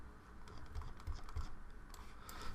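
Keys clatter on a computer keyboard in a short burst of irregular taps, quiet and close, with a few heavier keystrokes in the middle and no talking.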